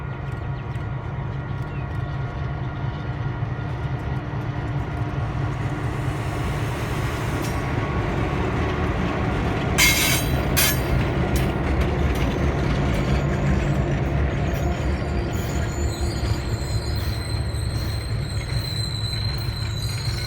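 Pan Am Railways' office car special, led by two F-unit diesel locomotives, crawls through North Andover, Massachusetts with a steady engine rumble, rolling wheel noise and brief metallic squeals, heard alone.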